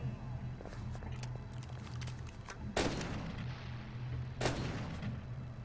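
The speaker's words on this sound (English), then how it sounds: "Who's shooting me?" Gunfire aimed at the player in the Call of Cthulhu video game: two loud sharp shots, a second or two apart, ring out over a steady low background hum.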